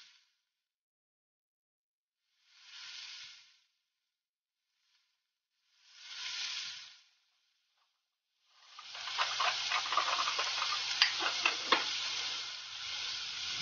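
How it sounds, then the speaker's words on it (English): Shrimp hit hot bacon grease in a pan on medium-high heat, giving a loud, steady sizzle that builds and crackles near the end, after two short bursts of hiss earlier on. "That's what we're going to fry our shrimp in."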